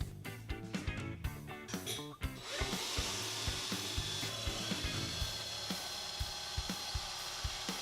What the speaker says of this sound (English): drill a couple of pilot holes first and then simply drive in the screws